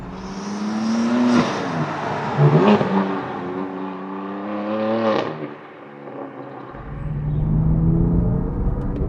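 Loud exhaust of a BMW M4 DTM Champion Edition roars through repeated acceleration runs, surging and pausing between gear changes, with one brief dip before the engine note climbs again, close and dominant with no speech.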